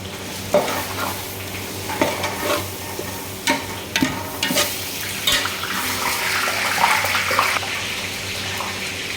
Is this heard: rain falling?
no